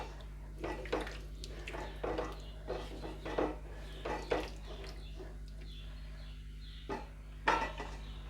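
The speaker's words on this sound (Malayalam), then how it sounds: "എന്നിട്ട് നന്നായി ഒന്ന് ഇളക്കുക കേട്ടോ." A spoon scrapes and knocks around a pot of white chickpea curry as it is stirred, giving soft irregular clinks and scrapes over a steady low hum.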